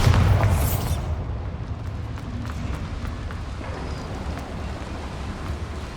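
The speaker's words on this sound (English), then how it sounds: "Bombarda!" A spell explosion from the Bombarda charm in Hogwarts Legacy goes off as one loud, broad blast at the start, then gives way to a lower, steady rumble with faint scattered crackles.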